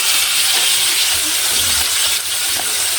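Chicken leg pieces fry in a pan with a steady, loud, close sizzle and hiss that runs unbroken throughout, with faint stirring clatter underneath.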